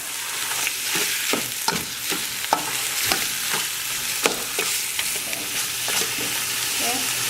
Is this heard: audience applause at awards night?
no